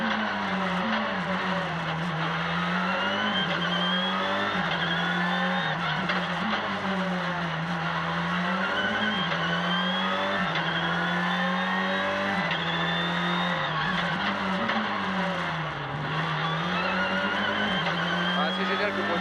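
Rally car at the Le Touquet rally sliding through a corner, its engine droning loudly and steadily with rising and falling revs throughout, no talk over it.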